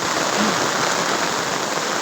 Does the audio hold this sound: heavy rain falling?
yes